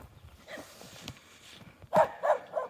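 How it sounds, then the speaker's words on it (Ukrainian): Village dogs bark in the distance, a few faint, spaced barks rising toward the end over quiet outdoor background noise. "Капець псів розвелося тут в селі, немає відстрілів і так далі."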